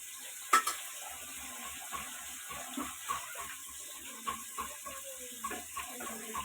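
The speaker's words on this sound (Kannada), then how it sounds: "ಅಕ್ಕಿ ಕೂಡ ತೊಳೆದು ರೆಡಿ ಮಾಡಿ ಇಟ್ಕೋಬೇಕು" Rice being washed in water for chicken biryani, soft splashing and sloshing with faint intermittent clinks, quiet and close in a home kitchen.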